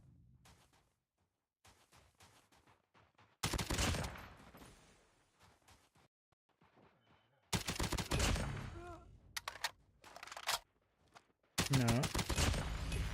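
Gunfire in Call of Duty Mobile: loud bursts of rapid automatic fire in long volleys separated by quieter stretches with scattered shots and game effects, and a voice speaks briefly between bursts.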